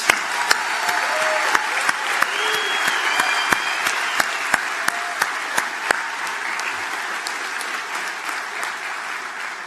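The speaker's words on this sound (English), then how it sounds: "Let's give them one more big round of applause." Sustained applause from a large commencement audience honoring engineering graduates at a university ceremony, steady dense clapping with sharp individual claps poking out, lasting the full stretch without talk.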